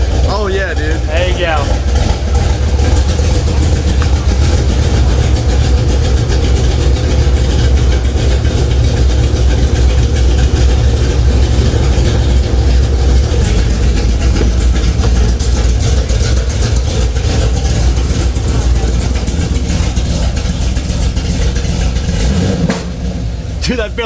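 A Camaro ZL1 runs after its first startup following a rebuild, its loud engine idling and rising in brief revs for over twenty seconds while people talk over it.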